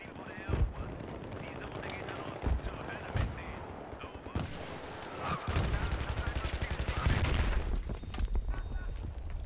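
Battlefield 3 gameplay gunfire: several sharp single shots early on, then a sustained rapid burst of automatic fire, loud and close, with people talking over it.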